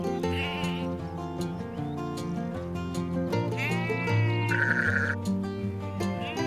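Sheep bleat in a field beside the Anglesey coastal path, several wavering calls in a row, one long and prominent near the middle, set against a soft rural background with no speech.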